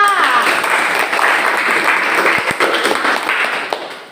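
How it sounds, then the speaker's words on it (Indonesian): A classroom full of people applauding loudly, dense clapping that holds steady and then begins to thin out near the end. "tepuk tangan untuk Puspita"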